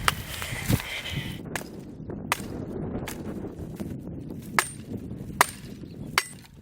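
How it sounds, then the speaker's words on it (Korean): Dry wood is struck with the back of an axe rather than the blade, giving about ten sharp, woody cracks at irregular intervals over a low outdoor background. "도끼 날이 아닌 등으로 나무를 치는"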